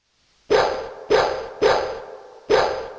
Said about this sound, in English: Those dogs don't sound friendly.